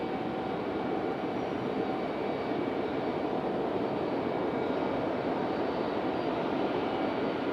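A steady, low roar of an arriving airplane's engine at Raleigh-Durham International Airport fills the whole stretch, constant and fairly distant, with no voices.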